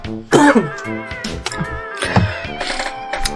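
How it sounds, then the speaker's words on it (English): A few harsh, rough coughs or throat-clearing bursts, close and fairly loud, with no talking. "I don't know why I'm coughing."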